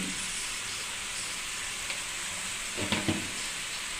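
Tomato chutney frying in a pan gives off a faint, steady sizzle, with a few soft scraping stirs near the end and no speech.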